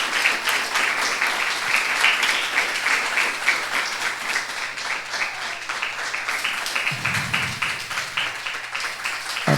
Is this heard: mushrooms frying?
no